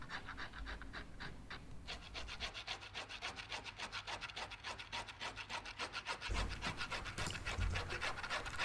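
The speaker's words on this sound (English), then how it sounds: "As I work to scrape off this glue, I'm relying on many senses." Blade scraping glue off the back of a painting canvas in a conservation studio, with steady rhythmic rasping strokes, close but quiet and unaccompanied by speech.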